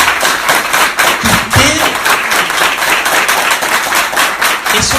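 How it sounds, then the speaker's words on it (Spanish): A church congregation claps together in steady, dense applause that fills the whole stretch, loud and close, with a few heavier thumps mixed in and no clear talk over it. "Y eso merece un aplauso."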